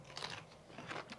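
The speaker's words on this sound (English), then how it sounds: "It's got a good crunch." Crunchy bite into a kosher dill pickle, two quick, close, crisp crunches in quiet surroundings.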